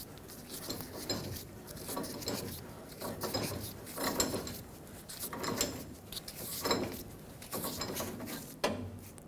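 A wrench or hand turns the outer tie rod off its threads on a 2000-2005 Ford Excursion, giving repeated quiet metallic clicks and scraping in short bursts with brief pauses, close up and without talk.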